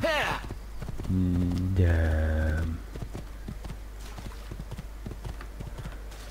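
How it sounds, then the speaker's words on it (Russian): Horse hooves galloping in the video game Assassin's Creed 2, a rapid rhythmic clip-clop beating steadily throughout, with a horse whinny and snort early on and a voice briefly speaking over it. "Благо не глубоко, и лошадь может спокойно проскакать тут."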